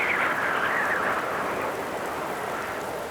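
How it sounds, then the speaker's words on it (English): A heavy storm with steady, loud rain pouring down throughout and low thunder rumbling underneath, a dense continuous roar with no voices. "they were in the middle of the biggest, loudest, scariest, most ginormous storm you could imagine"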